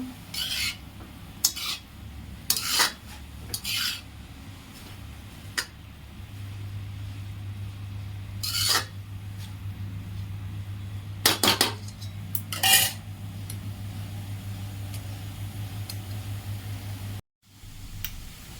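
Muravda mixture with added salt being stirred in a pan, giving scattered metallic scrapes and clinks of a utensil against the pan over a steady low hum.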